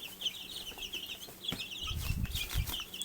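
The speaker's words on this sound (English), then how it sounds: "they're too interested in pecking around now. And scratching their little legs. Scratching in the new bedding." Chicks about two and a half weeks old peep in rapid, repeated high chirps while they peck and scratch in fresh bedding, with bursts of rustling scratches toward the end.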